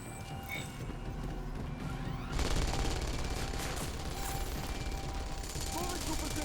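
Gunfire in the video game Deus Ex: Mankind Divided, a dense rattling barrage that grows louder and fuller partway through and continues steadily, with voices mixed in.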